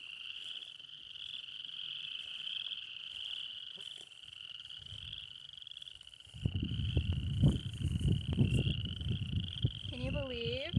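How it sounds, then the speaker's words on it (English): A loud chorus of frogs calling at a prairie pond, a steady high trilling drone with dense low croaks that swell partway through, and a voice speaking near the end. "Can you believe that deafening frog song?"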